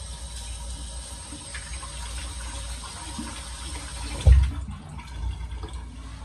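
Water running steadily from a tap into a sink during a wet shave, a continuous low wash with a brief louder splash partway through.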